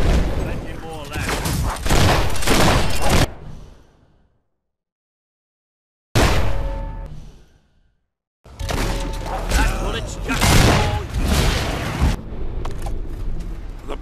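Mortar fire in the video game Fable III: dense bursts of loud booming and crackling blasts, broken by two stretches of near silence, with talk mixed among the explosions.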